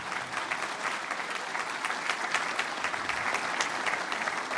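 Steady applause from an audience at a political event in the Minas Gerais assembly, many hands clapping in an even, sustained wash at moderate distance.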